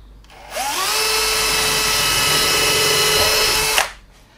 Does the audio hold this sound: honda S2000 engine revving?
no